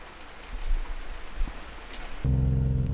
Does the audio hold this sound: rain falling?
yes